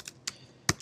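Several quick clicks of typing on a computer keyboard while writing out a JavaScript for loop, a few separate keystrokes with short gaps between them, close and fairly quiet.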